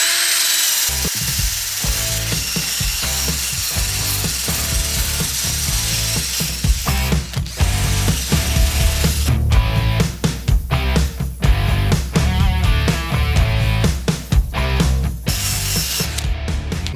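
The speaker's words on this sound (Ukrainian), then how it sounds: "попробувати шуруповертом почистити дерево, тобто зробити таку брашировку" Ronix cordless screwdriver fitted for brushing wood, run at second speed: a loud, continuous whirring and scraping that holds steady throughout and turns rougher and more broken after the first several seconds.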